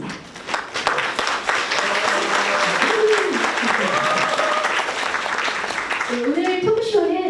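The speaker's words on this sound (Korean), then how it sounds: "토크쇼를 큰 박수와 함성으로 시작하도록 하겠습니다" Sustained applause with cheering fills a talk show hall on education for parents, a dense, loud wash of clapping under which a voice talks, with a rising tonal sound near the end.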